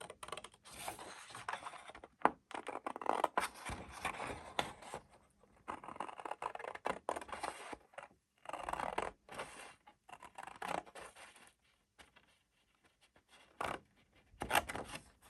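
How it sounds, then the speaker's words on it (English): Scissors cutting cardstock along a score line for a winter card craft, a long run of close, quiet snipping and rustling with brief pauses between cuts. "then I'm going to cut straight, and again I'm going to cut that score line out"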